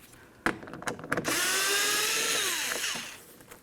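A ratchet works loose a 10mm-headed mounting bolt inside a 2004–2015 Nissan Titan front door: a few sharp clicks and knocks, then a loud, sustained whirring spin that fades out, heard up close with no talk.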